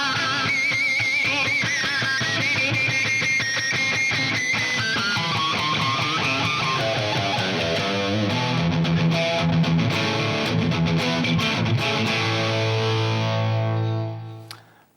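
Fender Stratocaster electric guitar switched to another pickup, playing a loud, driven, slightly distorted run of notes and chords that rings steadily before fading out at the end, with no talking.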